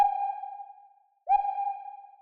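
A clear, pure electronic tone drenched in heavy reverb rings out and fades away slowly. After a brief silence the same tone comes back with an identical long, washing tail, alone and with no voices.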